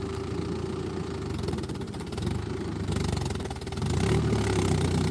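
A new farm vehicle's engine idles at a paddy field, a steady low rumbling chug running throughout and growing somewhat louder near the end.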